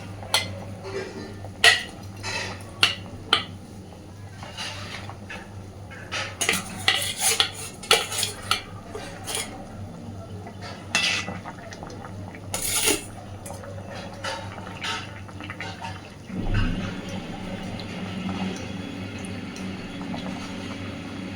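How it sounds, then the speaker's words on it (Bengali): Fried fish pieces going into a simmering Bengali fish curry with potato and taro, heard as scattered clinks and scrapes of a utensil on the pot, followed by a softer sizzle and bubble of the broth. "এই পর্যায়ে আমি ভেজে রাখা মাছগুলো দিয়ে দিচ্ছি"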